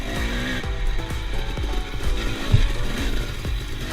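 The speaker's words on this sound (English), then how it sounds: "300cc two-stroke engine." A counterbalanced 300cc two-stroke dirt bike engine running, a loud raspy buzz with irregular popping pulses and shifting revs, close and continuous without talk.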